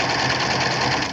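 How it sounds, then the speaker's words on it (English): A sewing machine stitching rows of fabric runs steadily with a dense, rapid mechanical whir that stays loud and close throughout and is heard alone. "my foot simply guides right into the first row stitching, and I can sew the subsequent rows"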